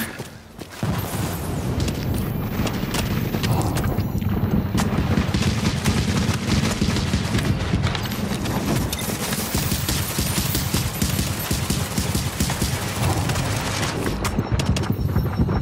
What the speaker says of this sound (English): Turret enabled at Alpha.